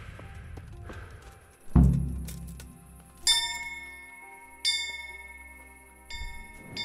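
Bell strikes inside the video game Kingdom Come Deliverance: four loud metallic clangs spaced about 1.5 seconds apart, each ringing on with bright overtones and a low hum, alone with no talk.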